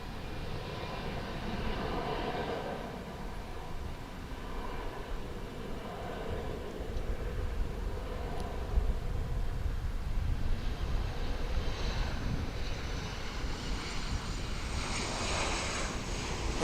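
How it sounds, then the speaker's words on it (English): An American airliner arriving at DFW International Airport from Guadalajara, its engines a steady, broad roar that holds for the whole stretch and swells slightly near the end. "What you hear behind me now is American flight coming in from Guadalajara"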